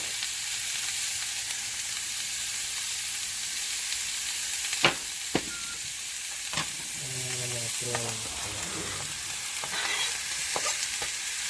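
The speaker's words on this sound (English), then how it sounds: "So we're going to let this cook for about 5 to 10 minutes" Vegan Panang red curry sizzles steadily in a pan as a continuous broadband fry, with a few sharp clinks and scrapes of stirring scattered through the middle.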